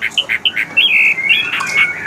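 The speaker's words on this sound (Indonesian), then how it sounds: "Ini suara cerucukan tadi." A cerucukan bird sings in a bird shop, loud and close: a run of bright, quick chirps and short whistled notes, clipped at first and then flowing into longer warbles, with no voices over it.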